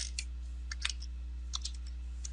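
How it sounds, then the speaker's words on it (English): Arrow keys and the enter key are tapped on a computer keyboard while coding in Python, giving a scattering of soft, quick clicks at an irregular pace against a low steady hum. "I'm using the arrow keys to move down and hit enter."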